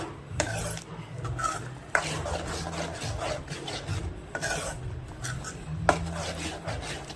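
Thick cashew masala gravy stirred in a pan, a steady scraping and rubbing of the spoon against the metal, with a few sharper knocks along the way, close and fairly quiet.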